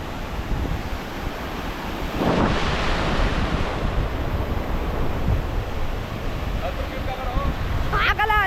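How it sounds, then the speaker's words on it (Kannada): Sea waves crash against the shore at Malpe beach, a loud surging wash that swells around the second second and keeps rolling under gusty wind noise, with faint voices near the end. "ಅಲೆ ಬನ್ನಿ, ಹೊಡಿತದೆ ಮೇಲೆ."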